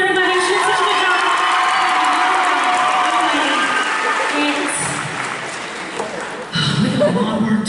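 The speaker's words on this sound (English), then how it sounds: "Give a round of applause, everybody." A live-show audience at a touring comedy performance in Providence cheers and applauds loudly, with whoops and shouts rising over clapping before the crowd noise fades and a voice speaks at the end.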